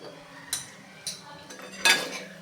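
A spoon stirs vatli dal in a pot, knocking against the metal in three sharp clinks, the last the loudest, over a quiet steady background.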